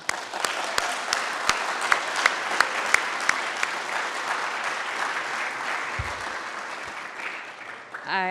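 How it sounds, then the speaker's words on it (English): A ceremony audience at a physical therapy white coat ceremony gives a sustained round of applause, dense clapping with a few sharper claps standing out, filling the room steadily for about eight seconds before tapering. "So we just like to give you guys a round of applause to thank you for your support."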